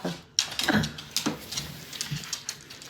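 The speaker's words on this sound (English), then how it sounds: "Oh, here comes my dog." A dog comes closer indoors with a quick, faint patter of footsteps and small clicks and rustles spread unevenly across a few seconds.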